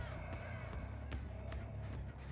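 A crow caws in the horror game Dead by Daylight, a few harsh calls over a steady low in-game ambience with no talk.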